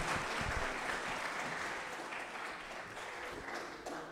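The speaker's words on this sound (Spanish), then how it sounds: "Les pido un fuertísimo aplauso para los ponentes quienes nos acompañaron esta noche." An audience at a public policy panel discussion gives the panelists sustained, even applause, a dense wash of clapping from a fairly distant crowd that slowly fades.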